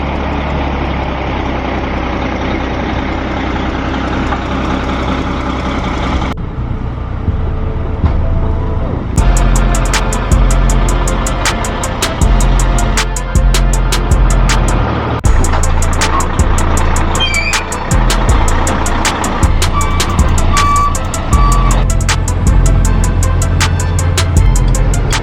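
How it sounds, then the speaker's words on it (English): A heavy machine's engine runs and idles loudly and steadily alongside a truck, with low rumble throughout and scattered clanks and knocks on top. "I'm gonna make sure that machine starts"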